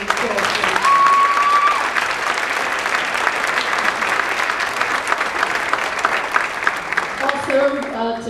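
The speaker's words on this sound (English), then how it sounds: "Please give her a round of applause." An audience at a senior athletic awards night gives a sustained round of applause, dense even clapping throughout with a faint voice near the end.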